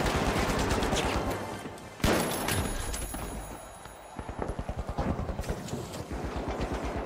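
Gunshots ring out in The Finals, a sharp burst near the two-second mark followed by a fast run of repeated shots, mixed with game effects and a low background bed.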